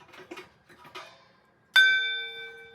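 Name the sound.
gong being struck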